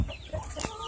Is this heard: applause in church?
no